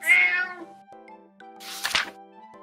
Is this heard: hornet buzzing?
no